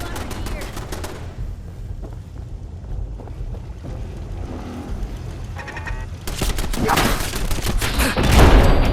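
Bursts of automatic turret gunfire in the video game Fallout 4, from an old turret that still works after 200 years, swelling loud and rapid toward the end, with a voice speaking briefly among the shots.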